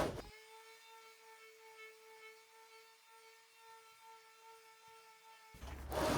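A power sander works on the wooden drawer of an antique buffet, giving a steady, even electric whine that holds for about five seconds before cutting off abruptly. No talking is heard.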